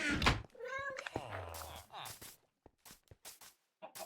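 A cat in the video game Minecraft meows a few times up close, with a strained, caterwauling cry, followed by faint scattered clicks and thuds in near silence.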